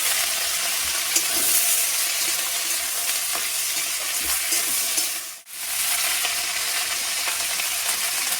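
Eggplant frying in hot oil while being stirred in a pan, a loud, steady, close sizzle with light scraping that dips briefly to near silence partway through before resuming.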